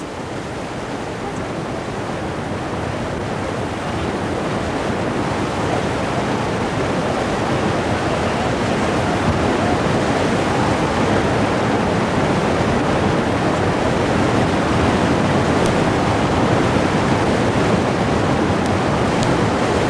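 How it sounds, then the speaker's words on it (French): Water draining through a valve system at a shrimp farm, a steady, loud broadband rush like a waterfall that holds unchanged for the full duration with no voices. "Le drainage de l'eau se fait par un système de vanne et ce vanne-là va régler le débit des crevettes."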